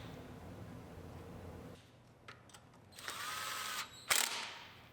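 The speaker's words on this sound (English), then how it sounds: "with our electric torque wrench" An electric torque wrench tightens suspension bolts on a 2013 Buick Enclave AWD being rebuilt. After a low steady hum, short whirring bursts give way to a sustained mechanical drone and a final sharp burst, all close by.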